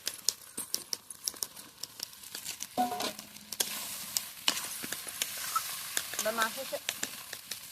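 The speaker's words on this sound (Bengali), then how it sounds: "এবার মাছের সাথে মশলাটা ভালোভাবে কষিয়ে নেব।" Prawns sizzling and being stirred in a mustard masala in a pan, a soft crackling fry with scattered scraping and tapping of the spoon, moderately near, with no speech.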